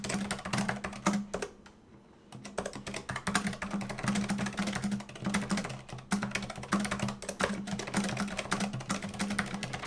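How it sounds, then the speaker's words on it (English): A Razer keyboard with red linear optical switches is typed on steadily at close range, producing soft, rapid clacking keystrokes in a continuous stream, broken only by a short pause near the start. "I'll type away for a little bit so you guys get an idea of what this keyboard sounds like with its red linear optical switches."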